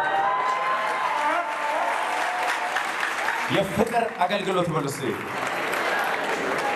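Church congregation at a Seattle revival service clapping, a sustained burst of applause in the middle, heard under a preacher's amplified speaking voice.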